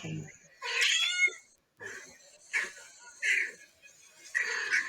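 A person imitating a cat, giving several short nasal meows and a drawn-out caterwaul-like wail in bursts, close and fairly quiet, with brief pauses between calls.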